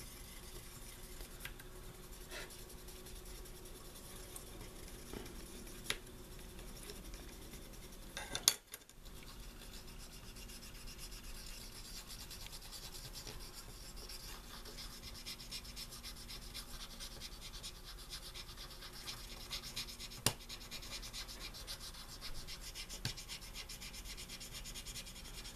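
A retro game cartridge is rubbed clean by hand, giving quiet, continuous scratchy friction strokes close by, with one sharp knock partway through and a few faint clicks.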